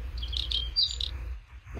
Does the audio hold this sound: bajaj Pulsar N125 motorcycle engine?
no